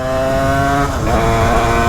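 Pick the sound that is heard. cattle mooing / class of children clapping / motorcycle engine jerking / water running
motorcycle engine jerking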